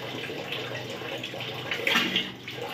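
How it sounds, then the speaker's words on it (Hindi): Water rushing from a household tap under pressure while the tap is being repaired, a steady broadband hiss that swells briefly louder near the end. "खोलने के बाद एकदम से पानी का प्रेशर आएगा काफ़ी तेज"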